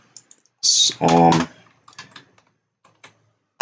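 Bursts of computer keyboard typing while formatting a Python dictionary in code, a dense clatter of keystrokes near the mic, with a few sparse clicks afterward and brief speech at the edges.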